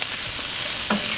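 Brussels sprouts with bacon sizzle steadily in a pan over a charcoal grill, stirred with a wooden spatula; a continuous close frying hiss with a brief scrape of the spatula near the end, no talking.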